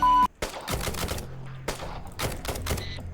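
Bursts of rapid gunfire in the video game Thunder Tier One crackle in short volleys separated by brief pauses, sharp and fairly close.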